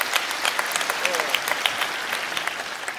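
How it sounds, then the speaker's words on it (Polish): A stand-up comedy audience in Poland applauds a comedian with a dense, even burst of clapping that holds steady throughout, with a brief voice faintly mixed in near the middle. "Wielkie brawa dla Maćka Adamczyka."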